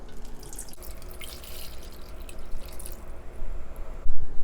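Water running from a tap into a pot for seafood kimchi soup stock, a steady close splashing and trickling with small drips, quiet throughout with no talking.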